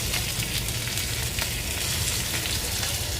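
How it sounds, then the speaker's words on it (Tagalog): Pan-fried baby back ribs braising in a pan give a steady, close, loud sizzle and crackle that runs unbroken throughout with no voices. "Ito ang tawag dito, braising. Binibraise lang muna natin."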